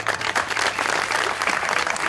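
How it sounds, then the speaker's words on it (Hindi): Audience applause breaks out during a Hindi-Urdu celebrity chat show with actress Syra Yousef, a steady, dense clatter of many hands that holds evenly for its full two seconds with no one talking over it. "तालियां"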